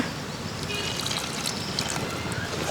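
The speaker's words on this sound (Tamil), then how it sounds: "கொஞ்சமாக தண்ணி சேர்த்துக்கலாங்க" A short, close stream of water splashing and trickling into a pan of ivy gourd gravy masala, steady throughout.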